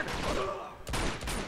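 Rapid gunfire from the video game Uncharted 2: Among Thieves during a firefight with an armored, shotgun-wielding enemy, dense and continuous with sharper bursts near the end, faint speech underneath.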